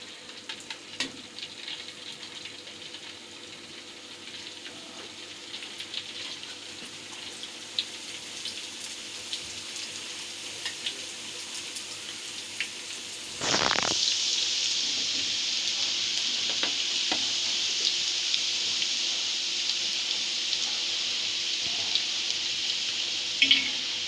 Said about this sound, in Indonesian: Setelah kita review cara buatnya, sekarang tinggal digoreng.